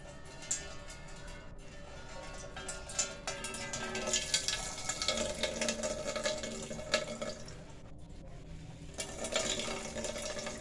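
Water being squeezed out of grated radish through a cloth, a faint continuous trickle and dripping with small splashes, heard alone at low level.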